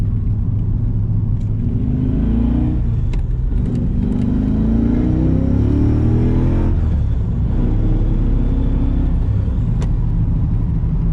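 A Cadillac CTS-V engine rumbles and revs up and down continuously, loud and close, with rising and falling pitch sweeps through a steady low roar.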